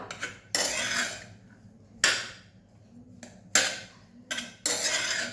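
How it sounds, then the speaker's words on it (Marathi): A metal spoon scrapes and clinks against a pan while semolina roasts in ghee, with four or five bursts of stirring, each a loud scrape that trails off into quieter rasping. "या तुपामध्ये आपल्याला थोडं परतून घ्यायचं आहे परत एकदा"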